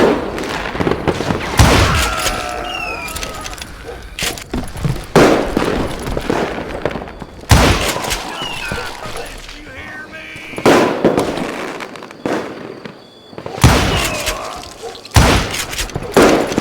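Gunfire in the Western shooter video game Call of Juarez Gunslinger, set around a saloon: repeated loud bursts of shots and booming blasts in irregular clusters, with game voices talking in between.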